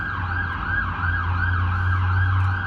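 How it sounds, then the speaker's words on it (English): Ambulance siren wailing in a regular rising and falling sweep as emergency vehicles pass along a road, loud and close over a low rumble of engine and traffic. "Ambulances!"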